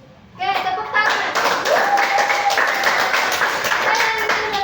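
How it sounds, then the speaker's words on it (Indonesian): A small group claps after a student's school presentation, a close, lively burst of hand claps that starts suddenly and keeps going with a voice briefly heard over it. "Oke, tepuk tangan."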